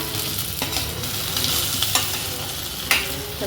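Dumpling mix with pepper and cumin stirred in a pan over low heat for a healthy neer urundai, a steady sizzle with scattered scrapes and clacks of the utensil, close and continuous, no talking.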